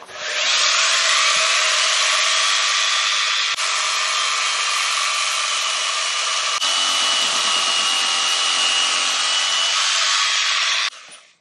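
A jigsaw cuts through wood in one long, loud, unbroken buzzing run lasting about ten seconds, with only two momentary dips before it switches off.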